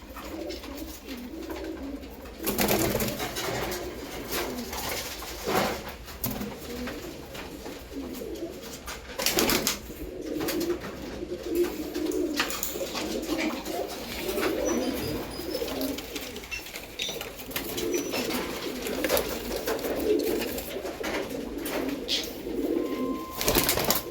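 Baby pigeons coo softly in a loft, a continuous murmur of overlapping low calls with occasional sharper knocks and shuffles, steady and close throughout.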